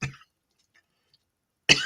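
A person coughs twice, a short burst at the start and a louder, harsher one near the end, with silence between.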